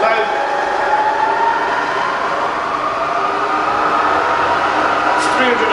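Rebuilt Bridgeport milling machine running in low range at low speed, a steady, quiet mechanical hum and whir with a faint rising tone, heard alone.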